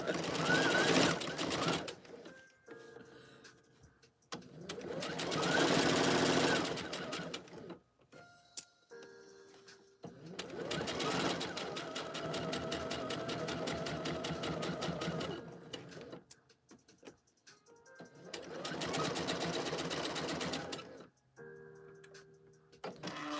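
Several long bursts from a sewing machine stitching a McCall's 8313 seam, each a steady fast mechanical whir close by, separated by short pauses with light clicks and handling noise.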